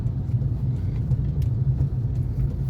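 A car drives along with a steady, close engine and road rumble as the driver shifts into second gear, with no voices over it.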